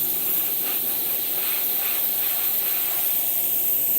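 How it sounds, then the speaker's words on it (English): A spray paint can hisses in one steady, continuous burst, close and even for several seconds with no talking. "Now I don't want to spray again."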